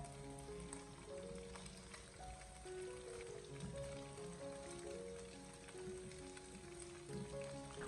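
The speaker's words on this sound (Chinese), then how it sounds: "先用锅铲把鸡蛋翻炒一下，先将其炒散，给它炒至成熟。" Eggs scrambled and stir-fried in hot cooking oil with a wok spatula for fried noodles, a steady, loud crackling sizzle throughout with no talk.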